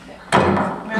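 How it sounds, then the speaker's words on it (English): A hammer strikes an apple in one sharp, close thud that decays over a short moment. "I tend to prefer the hammer."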